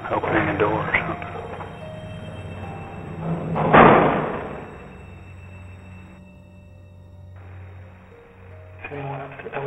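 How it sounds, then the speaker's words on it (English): A door being opened with a heavy thump indoors in a supposedly haunted building: one loud, sudden bang near the middle, then quieter rumbling and shuffling, with people talking around it. "Somebody's moving something, opening a door or something."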